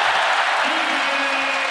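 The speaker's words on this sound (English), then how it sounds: "I like when the whole crowd goes, ooh." Basketball arena crowd reacting loudly with a rising, sustained collective ooh over dense roaring noise and scattered applause, while a commentator's voice runs underneath.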